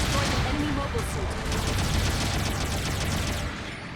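Supporting artillery fire in Gundam Battle Operation 2: rumbling blasts and crackling fire fill the clip at a steady, loud level, tapering slightly at the end, under voiced game announcements.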